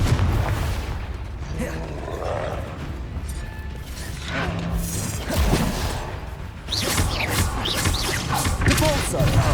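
Confringo fire spell exploding in a Hogwarts Legacy battle, loud booming impacts and whooshes under a constant roar of combat, with a heavier crashing burst late on and a voice calling out over the din.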